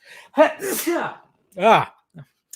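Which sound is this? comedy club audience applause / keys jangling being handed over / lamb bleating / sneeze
sneeze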